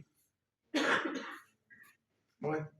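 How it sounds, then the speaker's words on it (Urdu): A few harsh coughs come close to the microphone: one strong burst, a short faint one, then another cough, separated by silence. "کھانسیاں"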